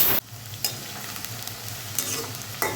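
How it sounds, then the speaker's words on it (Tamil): Sliced okra roasting in a pan sizzles steadily under a constant frying hiss, with a few sharp scrapes of a stirring utensil, close and with no voices. "இன்னும் கொஞ்சம் நல்லா ரோஸ்ட் ஆகட்டும்"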